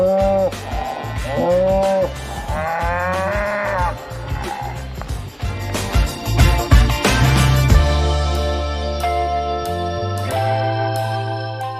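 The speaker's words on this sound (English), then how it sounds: "Leaving the noisy cows behind." Cattle near Kingston Lacy estate give repeated loud, drawn-out calls that overlap and vary in pitch, close by, with some rustling and a tonal musical bed underneath.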